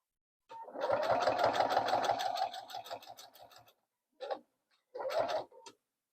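A sewing machine running slowly while stitching around the corner of a double oven mitt: a rapid rhythmic mechanical chatter for about three seconds, then two short bursts after brief pauses, close and clear with no talk.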